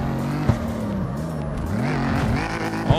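A 2JZ-swapped car drifts in the CarX Street racing game, its engine a steady loud drone with shifting pitch and tire scrub running continuously, with two brief sharp knocks near the start and end.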